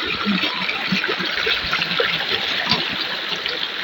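River water rushing steadily, a broad, continuous close-up wash of flow with small splashes and gurgles throughout.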